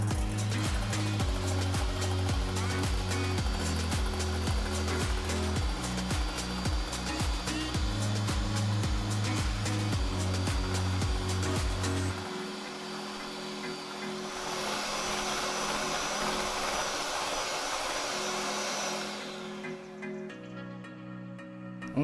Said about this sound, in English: let's go ahead and whisk up these egg whites, and we're going to get our sugar incorporated into the egg whites